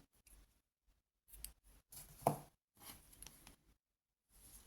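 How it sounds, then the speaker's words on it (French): Scissors snip crochet yarn in a quiet room, a few soft, close cutting and handling sounds separated by silence, with one sharper snip in the middle. "On va couper le fil."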